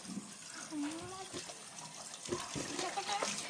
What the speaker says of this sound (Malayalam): ഇറച്ചി നല്ലോണം കഴുകുക.